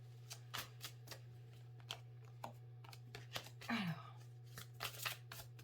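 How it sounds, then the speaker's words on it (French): Tarot cards shuffled and handled close by in quiet room, with crisp intermittent riffles, taps and slides spaced irregularly over a low steady hum, faint and without talk. "je vais retirer des cartes parce que toutes les cartes sont en train de sauter"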